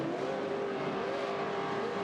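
A CORR Pro II trophy truck engine roars in a sustained, loud, steady tone as the trucks race over dirt berms off-road, with no other sounds rising above the drone.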